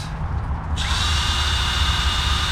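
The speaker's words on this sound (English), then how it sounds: "got the pump for the sleeping pad" A small electric pump inflating a sleeping pad whirs loudly and steadily after a brief moment of lower hum, its motor pitch holding constant.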